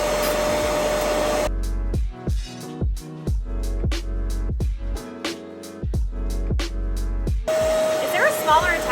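A Hoover Clean Slate portable carpet cleaner runs with a loud, steady motor whine at the start and again at the end, while a gap in the middle carries a voice instead.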